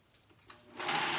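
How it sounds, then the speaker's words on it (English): A serger sewing machine stitching fabric, a brief soft mechanical whir that starts quietly and speeds up into a fast, close, steady hum. "I'm going to do it on my serger."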